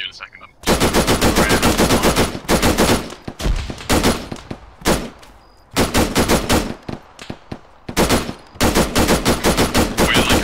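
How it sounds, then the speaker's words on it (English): Arma 3 firefight in the dark against a cult, with long loud bursts of rapid automatic gunfire in several sustained volleys separated by brief quieter gaps. "I'm still getting shot at, but I can't see them."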